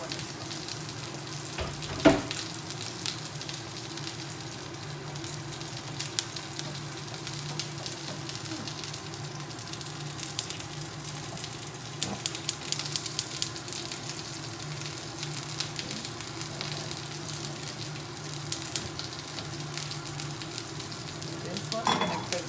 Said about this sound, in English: I'm gonna get another saute pan so we can add some veggies to it.